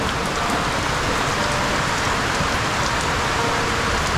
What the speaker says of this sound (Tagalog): Bumuhos na nga ng malakas yung ulan.